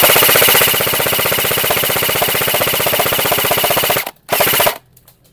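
A G&G FF16 blowback airsoft rifle fires on full auto in one long, loud, rapid burst, each shot clattering with the bolt's blowback action, then a short second burst after a brief pause, with no voices.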